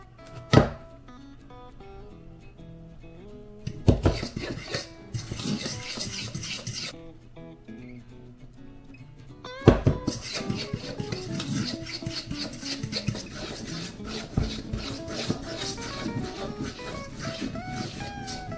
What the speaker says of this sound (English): now we add in the flour and continue stirring until the flour is moistened and a dough forms